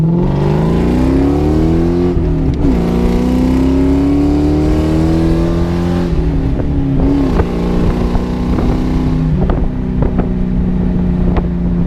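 A Ford New Edge Mustang accelerates hard onto an interstate, its engine climbing steadily in pitch through the gears with brief shift dips, loud and close from inside the car over steady wind and road roar.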